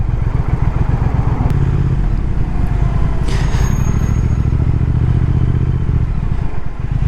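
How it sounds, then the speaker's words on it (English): A 2019 Triumph Speed Twin on its standard exhaust rumbles loudly and steadily up close while riding through traffic, a deep throbbing twin-cylinder note with some light mechanical clatter and a passing whine partway through. "The tone to the exhaust, this is the standard exhaust."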